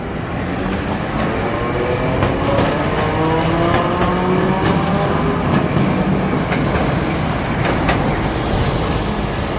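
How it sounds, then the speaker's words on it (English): A Japanese mountain railway train fitted with bow collectors rumbles past continuously, with a broad steady roar, rail squeal tones and scattered clicks from the wheels over about ten seconds, without talk. "What's interesting about these trains is that they use what looks like bow collectors instead of pantographs on the top."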